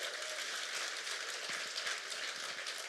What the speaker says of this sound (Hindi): मैं चाहूंगा इन दोनों दमदार लीडर्स के लिए एक जोरदार ताली हो जाए